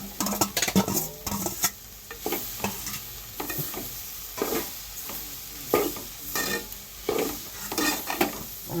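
Onion, tomato and curry leaves frying in a pan while being stirred, with a steady sizzle under repeated scraping strokes of a spoon against the metal, close and fairly loud throughout.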